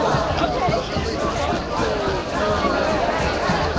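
Dense protest crowd hubbub outside a San Francisco event against President Obama's visit, with many overlapping voices forming a steady babble, some nearer speech threading through the continuous crowd noise.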